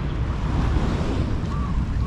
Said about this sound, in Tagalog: Payapan ng dagat ngayon.